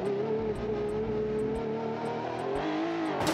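Car engine pulling hard in first gear, a steady rising drone with harmonics that climb gradually, loud and close throughout with no talking, ending in a sharp burst.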